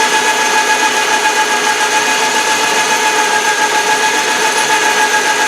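A Logan lathe with a turret attachment running a spotting drill into a hole, a loud steady machining whir with even texture throughout, alone with no voices.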